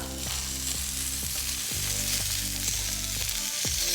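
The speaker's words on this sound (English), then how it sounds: "Give the pan the old shake. That is our chili salt prawns done in an absolute flash." Chili salt prawns sizzle steadily in a hot pan, broken by regular sharp scraping jolts as the pan is shaken over and over, close and fairly loud with no voices.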